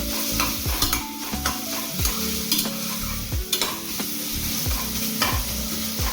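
Turmeric and ginger-garlic paste fry in a pan with a steady close sizzle, broken by repeated scraping strokes of a spoon stirring through the paste, with no voices.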